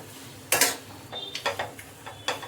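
Wheat flour and jaggery halwa (shira) scraped from a pan into a bowl, with a handful of sharp metallic clinks and scrapes of a spoon against cookware, spaced irregularly and fairly close.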